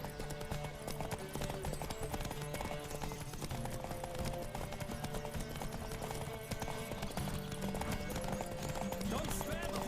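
A horse gallops in The Witcher 3: Wild Hunt, its hooves clopping in a fast continuous rhythm under game music, with a voice speaking over it.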